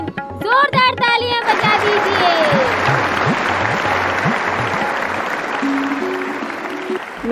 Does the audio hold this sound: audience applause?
yes